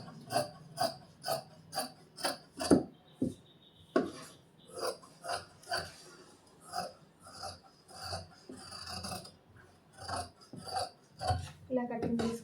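Scissors cut through blouse fabric in a rhythmic series of close, crisp snips and rasping slices, each blade closure distinct, with faint handling noise between cuts.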